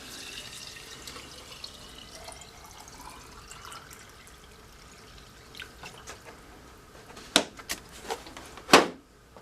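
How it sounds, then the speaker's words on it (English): Tap water runs softly into a container holding garden cress seeds in a home kitchen, a steady faint flow with a few louder splashes and knocks toward the end. "Fill it up with water."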